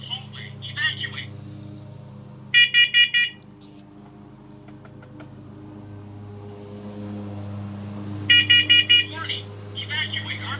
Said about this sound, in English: Alright, first alert, hardwired smoke detector.